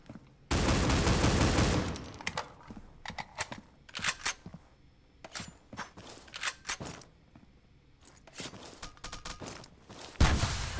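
An AK-47 with UFO camo in the mobile shooter Critical Ops fires in repeated rapid bursts during a tournament round, with short pauses and light footsteps between the volleys.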